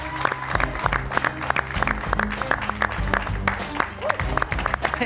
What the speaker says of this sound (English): I'd like some round of applause from this lovely audience we have today.